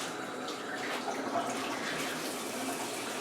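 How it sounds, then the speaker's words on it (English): A bathroom shower runs from its shower head during an inspection, a steady hiss of spraying water that holds level and fairly close for the whole stretch. "When the shower goes on, we'll make sure it's coming out."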